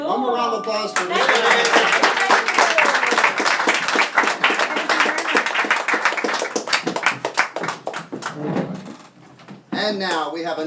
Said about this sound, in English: One more round of applause for Mr.